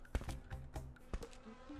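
Wasps buzzing around a wasp nest in the video game My Summer Car 2, a steady insect drone close by with a few sharp clicks and taps over it.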